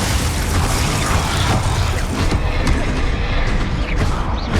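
Confringo, a blasting spell in Hogwarts Legacy, goes off as a loud, dense burst of booms and crashing impacts that rolls on with debris-like clatter, with no one talking.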